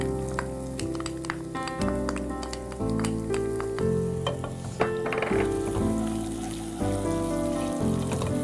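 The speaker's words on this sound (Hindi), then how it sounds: "डाल देते हैं प्याज।" Finely chopped onions sizzle steadily in hot oil while frying golden for Hyderabadi dum gosht, with a constant close crackle and occasional stirring clinks throughout.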